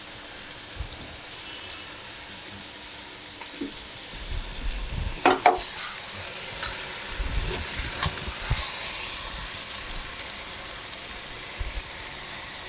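Fish pieces simmering in a pan for Telugu fish pulusu, with a constant soft sizzle and bubbling and a few light clinks and scrapes of stirring partway through, close and without speech.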